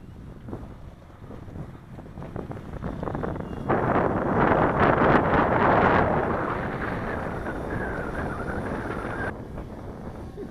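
Wind rushing and buffeting past a 55-inch Skywing Slick model airplane in flight, a broad whooshing roar that swells midway and then settles into a steadier rush with a faint whine on top.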